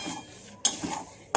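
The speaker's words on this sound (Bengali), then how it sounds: "এটা লাল করে ভাজবো সুজিটাকে, তাহলে দেখতে ভালো লাগবে।" Semolina being stirred and roasted with ghee in a kadai, a spoon scraping the pan in a few brief clanks and steady soft scrapes, close and fairly quiet with no talk.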